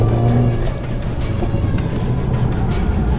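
A Mercedes-AMG car on winter tyres takes a corner that pulls outward, its engine a steady, close, continuous drone with road and tyre noise throughout and no talk.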